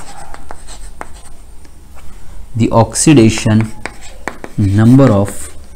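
Pen scratches on paper in short, faint strokes, with someone speaking over the later part of the writing.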